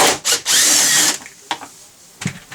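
Power drill backs out a long 10mm black bolt from the front door of a 2021 Nissan Rogue: two short whirs, then a sustained loud spin for about half a second, followed by faint clicks and handling noises.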